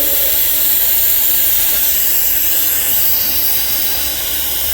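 TIG welding stainless steel pipe with filler wire fed continuously: a steady, loud, hissing high-pitched buzz of the arc holding evenly without pause, close up and alone.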